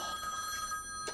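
A telephone rings in the horror video game The Quarry, a bright electronic bell trill sustained briefly and fairly clear against a quiet background.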